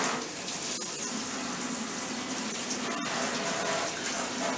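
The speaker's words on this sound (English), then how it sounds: "I'm going to rinse my hands" Tap water runs steadily over hands being rinsed at a kitchen sink, a continuous close hiss and splash with a couple of brief interruptions.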